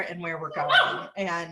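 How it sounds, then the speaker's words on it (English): A dog barks several times in a loud, close burst, with a person talking underneath. "pardon the barking dog in the background"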